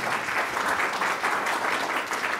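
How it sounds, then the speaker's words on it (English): Steady crowd applause at a user conference fills the whole stretch, dense and even, with no pauses between claps. "Give her a round of applause."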